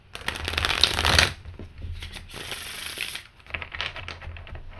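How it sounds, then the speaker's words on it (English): A small White Sage Tarot deck is shuffled by hand: a dense burst of papery card slaps and riffling, a brief pause, then more bursts of crisp shuffling, heard close and without talk. "I can fit it in my hands and shuffle them like a normal deck of cards"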